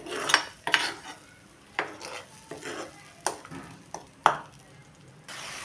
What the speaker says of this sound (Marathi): ह्या कांदा पेस्टला चांगलं तेल सुटेपर्यंत आपण परतून घेऊया